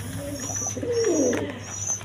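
Pigeons coo in a soft, low, rolling call building to a fuller coo near the middle, with a steady hum and a high tonal whine behind. The birds are a quality pair of Blackless Shirting pigeons, a breeding pair producing eggs and chicks.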